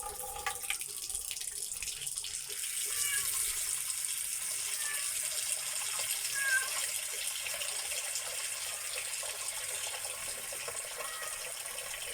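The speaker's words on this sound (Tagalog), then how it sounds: "Lagyan natin tubig para salang natin." Water streams steadily from a tap into a frying pan, a continuous splashing hiss at moderate volume with no voices.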